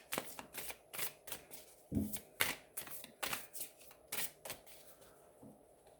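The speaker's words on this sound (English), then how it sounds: "Funny how sometimes you have to just shuffle for ages." Tarot cards shuffled by hand in a long run of quick, crisp riffling bursts, close and fairly loud, with no talk over them.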